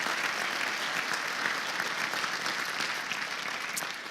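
Steady applause from an audience at a city's state-of-the-city address, a dense even wash of clapping that carries on unbroken for several seconds at moderate loudness.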